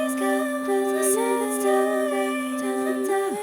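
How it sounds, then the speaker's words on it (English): Chopped vocal samples arranged in FL Studio, a string of short, pitched, sung fragments gliding and stepping over a held tone, clear and close, with no talk. "here's my original sample and you can see the other vocal chops I did"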